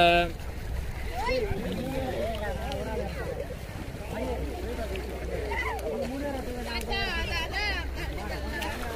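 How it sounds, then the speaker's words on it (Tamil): Steady rushing of a fast-flowing river fills the background while several people talk and call out over it. "தண்ணி நல்லா இழுத்துக்கிட்டு போயிட்டே இருக்கு"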